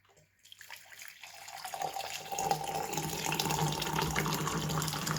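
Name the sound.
boiled kettle water poured into a tea cup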